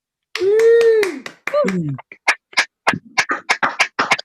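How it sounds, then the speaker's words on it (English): Participants in an online poetry open mic unmuting to applaud, a voice calling out first, then scattered sharp individual claps and hand taps arriving unevenly over a video call. "Could you please unmute ourselves and give a massive round of applause for the Metaphorist?"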